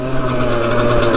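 A Yamaha YZ85 two-stroke dirt bike engine idles steadily while warming up, a close, even buzzing drone with a rapid pulsing rhythm and no talk.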